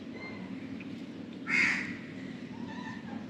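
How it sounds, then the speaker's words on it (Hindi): A single crow caws once outdoors after rain, a short harsh call standing out over a steady low background hum, moderately close. "कव्वे बोल रहे हैं, बेचारे भूखे हैं।"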